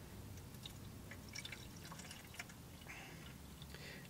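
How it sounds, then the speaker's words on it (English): Water poured into an Arctic Air Ultra portable evaporative cooler inside a hot car, a quiet close trickle and splashing with small drips that continue for several seconds, with no talking. "So we're going to fill it up with water."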